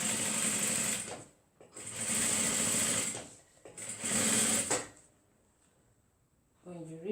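A sewing machine stitches a foldover bag in three loud, steady bursts of running stitches separated by short pauses, with faint talk near the end.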